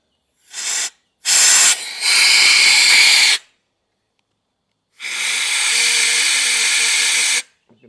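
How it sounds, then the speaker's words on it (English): A diaphragm valve with a couple of check valves on an abandoned Holden engine hisses in loud bursts: a short puff, a longer two-second rush, then a sustained hiss with a faint low flutter. There are silent gaps between the bursts. "You can hear the valve in there working."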